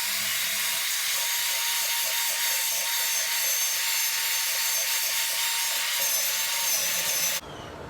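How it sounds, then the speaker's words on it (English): Continuous harsh scraping of rust and dirt from inside a metal pipe crucible used for melting brass, a loud, steady, gritty rasp up close that cuts off abruptly near the end, with no speech. "I'm just going to clean out the inside of it. Get all that rust and dirt out of there."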